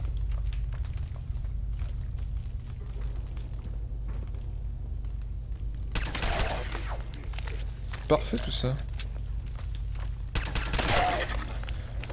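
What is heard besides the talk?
gunfire from a small gun in the video game Fallout 4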